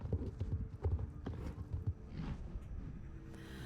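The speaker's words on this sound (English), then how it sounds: "Oh, there's even more new horses." Horse hooves clip-clop in the Star Stable video game, a quick run of steady, close footfalls with louder beats early that blur into a softer continuous trot.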